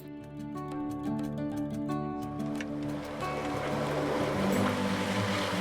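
A dinghy's outboard motor drones steadily on the open sea near Corfu, Greece, its tone shifting as it speeds up, with wind and water rushing over it and no talk.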